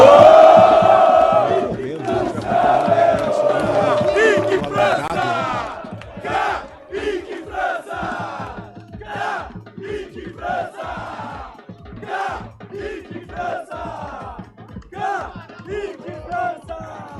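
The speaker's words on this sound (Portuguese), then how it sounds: "Kaique França sendo bastante ovacionado pela torcida bugrina" Guarani supporters give an ovation to player Kaique França after a Campeonato Paulista 2026 match against Velo Clube. A loud roar comes first, then rhythmic, chanted bursts from the crowd.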